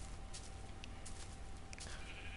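Minecraft sheep bleat in short, nasal calls, several of them spread across the moment over steady game background noise.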